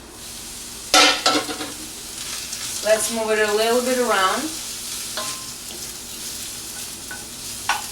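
Spinach sizzles and crackles steadily in a hot frying pan while someone speaks briefly over it, with a few stirring scrapes.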